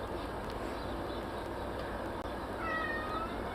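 A cat named Bandit gives a short, faint meow near the end, set against a steady background hum with no talking.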